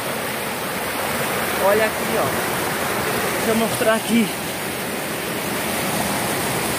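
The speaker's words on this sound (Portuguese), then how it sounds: "Olha o barulho da água." Rushing water of a large stream in northeastern Brazil, a steady broad roar throughout, with someone talking over it in Portuguese.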